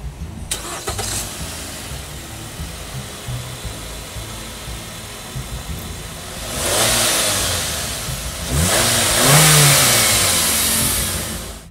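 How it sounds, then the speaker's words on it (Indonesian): A Nissan Elgrand 2.5-litre engine cranks and starts, then revs up twice before settling, loud and close after a quiet lead-in. "Sekarang kita pengen denger dulu suara mesinnya kayak apa"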